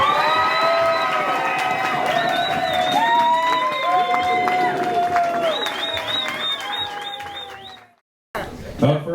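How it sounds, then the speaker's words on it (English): Wedding guests cheering, whistling and clapping for newlyweds making their first appearance at a reception in Destin, Florida, a loud, sustained crowd roar with shouts rising over continuous applause before it cuts off abruptly near the end. "Put your hands together and give a big round of applause as husband and wife making their first appearance, Mr. and Mrs. Mark Felsenthal."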